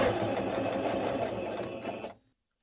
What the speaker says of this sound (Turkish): Burada bir sıfırdan dikiş yapıyorum yalnız.